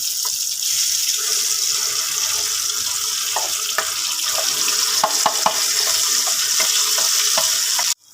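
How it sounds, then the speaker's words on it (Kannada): Tomato pickle fries in plain oil with no water, a steady bright sizzle filling the whole stretch, broken by scattered soft clicks and taps of stirring, close and fairly loud with no talk. "ಇದಕ್ಕೆ ಬರೀ ಎಣ್ಣೆಯಲ್ಲೇ ಹುರ್ಕೋಬೇಕು"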